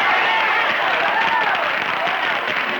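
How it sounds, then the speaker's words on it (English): A Grand Ole Opry audience applauds as comedy duo Lonzo and Oscar come on stage, loud continuous clapping mixed with crowd noise and voices. "let's all get together and give them a round of applause"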